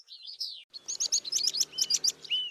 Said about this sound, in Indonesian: Beranjangan jantan bisa berkicau sambil mengapung di udara.